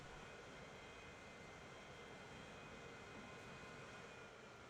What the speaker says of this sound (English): Please tell me you can hear the plane